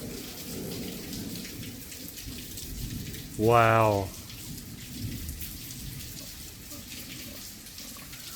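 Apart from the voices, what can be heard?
heavy rain and thunderstorm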